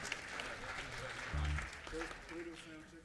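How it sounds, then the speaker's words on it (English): Applause from a high school jazz festival audience for the student soloists, a soft, distant wash of clapping running under a speaking voice. "So another round of applause for our soloists on that one"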